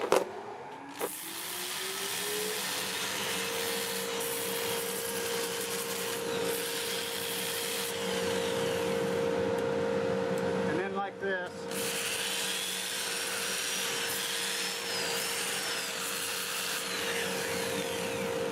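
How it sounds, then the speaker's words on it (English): A dust collector whirs with a steady tonal hum in a woodturning shop while cherry burl is sanded on a lathe, with scratchy rubbing under the drone and someone briefly speaking. "let me get the dust collector going and I'll do a sanding"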